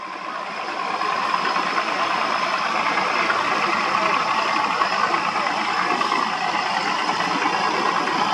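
Steady droning engines of trawler fishing boats racing on the water off La Gi, Binh Thuan, a continuous mid-distance rumble with broadband wash and no pauses.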